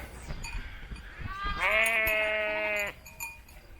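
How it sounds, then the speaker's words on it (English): A herd of sheep grazing in the Croatian countryside, where one nearby animal gives a single loud, drawn-out bleat lasting over a second, framed by quieter rustling and faint distant calls. "Herd of sheep. And I'm right in the middle of it."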